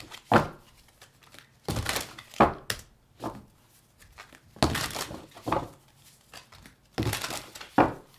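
Soft, papery shuffling and riffling of tarot cards in irregular bursts, close by, with quiet gaps between each flurry of cards.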